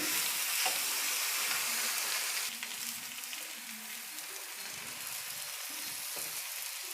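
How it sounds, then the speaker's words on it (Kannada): Ragi roti pressed onto a hot oiled griddle (tava) on a stove, frying with a steady close hiss and sizzle that dips slightly partway through and carries on quietly with faint crackles. "ಈಗ ಬಟ್ಟೆ ಸಮೇತ ನಾನು ರೊಟ್ಟಿನ ಹೆಂಚು ಮೇಲೆ ಹಾಕ್ತಾಯಿದ್ದೀನಿ"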